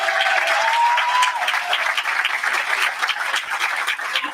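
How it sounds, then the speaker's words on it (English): Audience applause at a town hall meeting, a steady, dense clapping crowd that fills the room continuously from start to finish, loud and close with no pauses. "Can we have a round of applause for all of them?"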